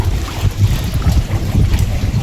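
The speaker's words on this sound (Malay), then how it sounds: "Angin dah makin kuat ni" Strong wind buffets a fishing boat at sea, a loud rough rumble of gusts and microphone wind noise, with water sloshing beneath and no talk.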